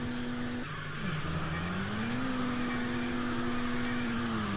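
Race car engine in the video game Midnight Club 2, a steady droning engine note that shifts pitch with a brief squealing tire skid, loud and continuous without talk.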